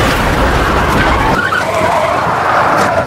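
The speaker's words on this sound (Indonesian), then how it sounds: "Saat Dongchol dan Kyung Hae kabur dengan mobil, Kolonel Sehun menyusul dan menabrak mereka." In a film chase scene, cars ram each other with a loud, continuous roar of engines and screeching, skidding tires that fill the whole moment, with no voices heard.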